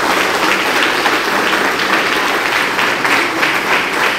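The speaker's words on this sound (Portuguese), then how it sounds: "Vamos aplaudir o Senhor." A church congregation claps loudly and steadily during a worship service, with a thick, continuous wash of applause from many hands that holds throughout.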